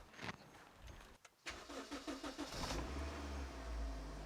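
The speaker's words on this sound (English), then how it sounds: "So what I'm going to do now is we're going to start the car." A Suzuki Ignis fitted with polyurethane engine mounts cranks over and fires up, its engine catching and settling into a steady, close, loud idle rumble.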